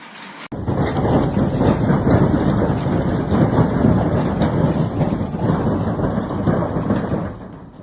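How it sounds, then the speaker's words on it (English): Golf ball to chicken egg sized hailstones pelt down at high speed during a Johannesburg storm, a dense, loud, continuous roar of impacts that starts abruptly and holds steady without pause. "hailstones ranging from golf ball-sized all the way up to the size of chicken eggs, pelting down at high velocities"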